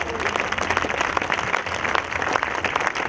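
An outdoor crowd in an Italian town square gives sustained applause for a Japanese high school marching band, dense, close clapping that continues steadily throughout.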